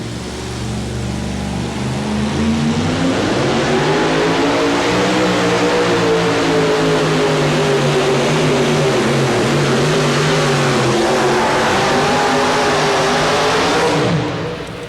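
Chevrolet two-wheel-drive pulling truck Wicked Willie at a 1992 NFMS truck pull in Louisville, Kentucky: a loud, sustained engine roar that climbs and wavers in pitch through the pull, then cuts off abruptly at the end.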